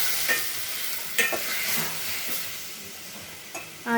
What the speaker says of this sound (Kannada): ಒಗ್ಗರಣೆ ಒಳಗೆ ಬೂದು ಕುಂಬಳಕಾಯಿ ಬೇಯಿಸಿರೋದು ಹಾಕಿದ್ದೀವಿ